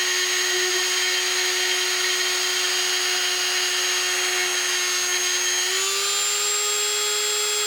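Dremel rotary tool spinning in a Work Station 220 stand, a steady high-pitched whine with strong tonal harmonics that shifts slightly higher near the end as the speed changes, loud and close with no talking.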